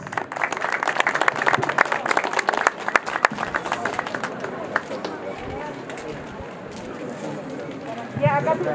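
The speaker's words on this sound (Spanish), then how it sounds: "Aplausos, señoras y señores." Audience applause at an outdoor civic ceremony in Cusco marking the anniversary of the Battle of Sangarará, a broad patter of clapping that fades into crowd noise while a voice speaks over it.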